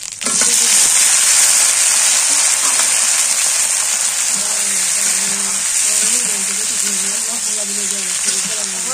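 Tomato added to a hot frying pan while cooking a fish head and ridge gourd curry in a village kitchen, giving a loud, steady sizzle throughout, with a voice speaking underneath.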